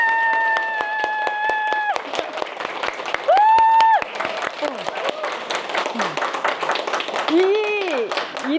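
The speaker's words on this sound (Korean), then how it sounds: "이 박수를 진짜 미친 듯이 한번 쳐보실래요?" An audience claps wildly in a fast, crackling burst of many hands, mixed with loud shouts and sustained whoops from people in the room.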